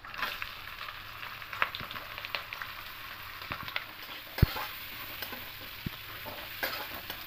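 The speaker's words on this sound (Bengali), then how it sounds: "এবার হালকা করে সবজিগুলোকে ভেজে নেব।" Vegetables fry in a pan for a homemade pasta, giving a soft, steady sizzle broken by scattered scrapes and clinks of stirring, close and fairly quiet with no talking.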